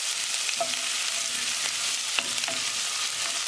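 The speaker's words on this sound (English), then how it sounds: "Now we're going to add ginger and garlic." Ginger and garlic frying in a pan for a chickpea and black bean dish, a constant bright hiss of oil with a few light spoon taps, close and steady with no voices.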